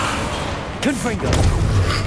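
Confringo, an explosive spell in the Hogwarts Legacy video game, fires with a short whooshing burst and thump amid game combat noise, followed by a low rumble.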